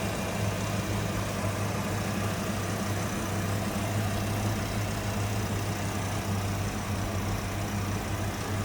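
A 1994 Ford Mustang Cobra Indy Pace Car convertible idles smoothly, a steady low engine hum held at constant level throughout with no revving.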